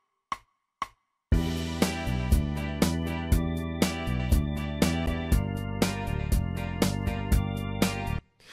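An iReal Pro backing track in a blues Texas rock style opens with two count-in clicks, then a steady band groove with punchy accented chords plays on its own.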